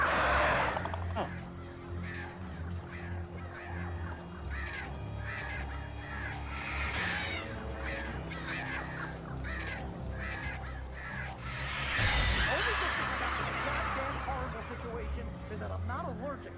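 Crows caw repeatedly in Alan Wake, harsh overlapping calls scattered throughout alongside game sounds, with a louder burst near the end as someone talks over the action.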